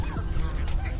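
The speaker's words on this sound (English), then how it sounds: "Lots of ducks, guys. Everywhere." Ducks and geese at Bay Beach Wildlife Sanctuary, with several nearby quacks and honks overlapping in a busy outdoor flock over a steady low background rumble.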